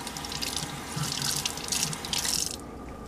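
Tap water runs over the outside of a Berkey water filter element being rinsed under a faucet, a steady splashing stream lasting a few seconds before it cuts off near the end.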